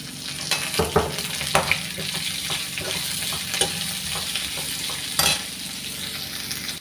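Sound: onion, green chilli and curry leaves frying with okra

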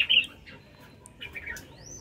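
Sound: red-whiskered bulbul calling

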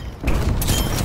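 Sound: flashbang grenade exploding in a video game

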